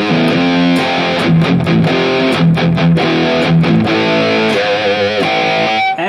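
Distorted electric guitar through a NUX MG30 plexi amp model, with a crunchy, overdriven tone, playing chords and short riffs steadily throughout at close range.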